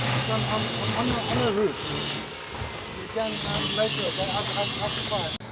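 Machinery runs on a building site in the Philippines, a loud continuous grinding, rasping din with a pause in the middle, heard close while someone talks over it.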